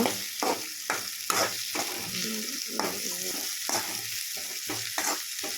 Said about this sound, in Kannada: ಅಷ್ಟನ್ನು ಚೆನ್ನಾಗಿ ಫ್ರೈ ಮಾಡ್ಕೋಬೇಕು ಈರುಳ್ಳಿ ಚೆನ್ನಾಗಿ ಫ್ರೈ ಆಗಬೇಕು